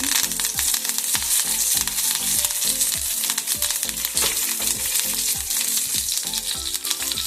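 Curry leaves fry in hot oil for an egg and potato curry, giving a loud, dense, continuous sizzle and crackle close to the pan, with faint stirring and no voices.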